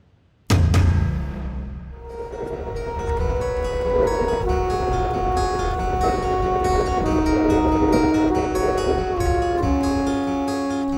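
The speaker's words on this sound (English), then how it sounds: "Well, the train is moving, so that's positive news." Train moving on rails through Alaska, heard from on board: a sudden loud onset settles into a steady rolling rumble with sustained metallic squealing tones shifting in pitch, no talk.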